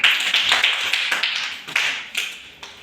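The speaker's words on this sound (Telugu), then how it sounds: "ఓకే క్లాప్స్ చూడండి అమ్మాయికి" Schoolchildren in a classroom clapping for a classmate, a bright ragged round of hand claps in uneven bursts that fade and pick up again, close and fairly loud.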